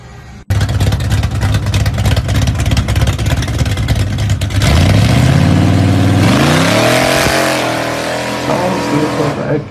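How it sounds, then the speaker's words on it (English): A big block engine in a Chevy donk revs hard and loud nearby, holding a deep roar and then climbing in pitch through repeated rising sweeps before easing off. "Sounds like a big block engine."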